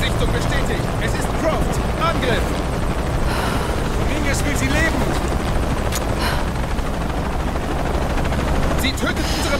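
A helicopter in the video game Shadow of the Tomb Raider keeps up a dense, continuous rotor roar that fills the scene, mixed with combat noise and some sharp bursts.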